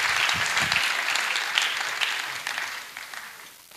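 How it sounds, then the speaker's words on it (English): Audience applause at a birthday public lecture for a church leader, steady dense clapping from a large crowd that slowly fades toward the end. "Let's clap our hands for Jesus."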